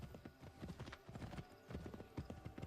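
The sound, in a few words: horse hooves clip-clop, from a video game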